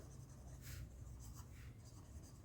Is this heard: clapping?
no